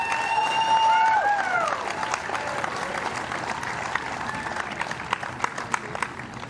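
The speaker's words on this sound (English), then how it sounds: "please give a big round of applause for Katrina Head." A crowd applauds a third-place finisher at a STIHL Timbersports championship, claps blending into a dense wash with some cheering, loud at first and then settling into steadier, scattered clapping.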